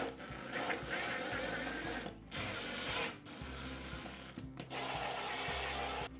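Small wall anchors for curtain hanger screws being installed in a bedroom wall give steady mechanical whirring and ratcheting in three long bursts with brief pauses, close and fairly loud.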